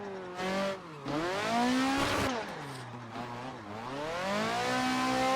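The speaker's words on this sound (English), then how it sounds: "It definitely sounds like a K20." A four-cylinder Honda K20 K-series engine in a racing video game revs steadily through its range, rising and falling in pitch as it shifts gears, loud and continuous with no talking.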